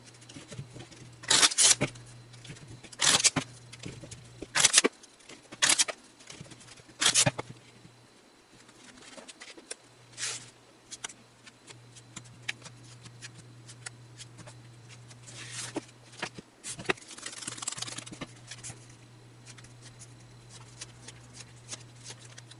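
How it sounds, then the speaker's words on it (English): Cards are riffle-shuffled several times in quick rustling bursts, followed by softer handling and shuffling against a steady low hum. "So I'm going to go ahead and shuffle that into the cards now."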